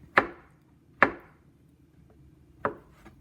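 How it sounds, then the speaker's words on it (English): A knife chops corned beef for hash on a cutting board with three sharp, close, separate chops: two about a second apart, then a pause before the third, with no talking. "Then next you take your corned beef and chop it up"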